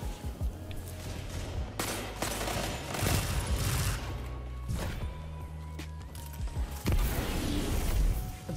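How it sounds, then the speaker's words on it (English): Pulse rifle fire from Destiny 2 cracks out in short repeated bursts amid mechanical clicks and reload clatter, with deep booming tones underneath and louder volleys around the middle and end. "I'm gonna keep our range a little bit more with the pulse rifle."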